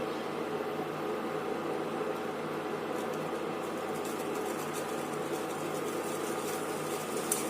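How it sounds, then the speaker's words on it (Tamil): Water boils steadily in a pot on an induction stove, a faint, even bubbling hiss that holds without pause. "இப்போ நான் வந்து தண்ணியை வந்து கொதிக்க வைக்கிறேன்."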